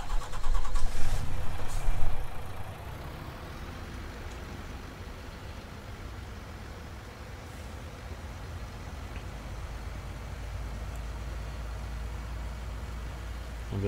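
A truck engine cranks and catches in Landwirtschafts-Simulator 19, a loud starter burst over the first two seconds, then settling into a steady, even low idle that runs on for the rest of the clip without any voices.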